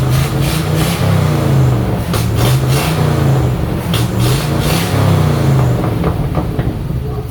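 Truck engine revving up from a warm-up idle, a loud, steady low rumble with repeated rises in pitch as the throttle opens, close and alone without voices.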